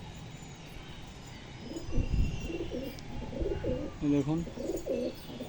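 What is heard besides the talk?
pigeons cooing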